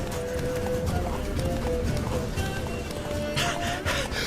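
Hooves of Geralt's horse Roach clip-clop in a fast, steady gallop in The Witcher 3: Wild Hunt, with a whinny, game music and ambient sound layered over the rhythmic beat.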